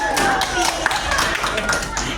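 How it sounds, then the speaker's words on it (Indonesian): Group clapping at an elementary school gathering in Jambi, a brief burst of hand claps with a steady, dense texture, mixed with background voices and some tonal sound. "Tepuk tangan."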